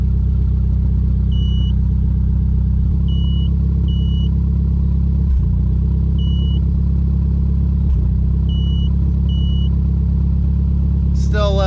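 Chrysler Conquest turbo engine idling steadily during tuning, a close, even low rumble that holds for the whole stretch with a couple of brief dips, while people talk over it.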